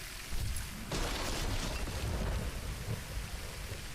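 Thunder from a lightning attack in the video game VOIN, a loud rumbling crash that rolls in after a brief lull and sustains for several seconds amid stormy rain-like noise, with no talking.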